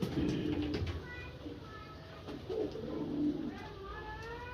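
Low, soft pigeon coos repeat near the start and middle, with faint chirps of other birds and light background noise.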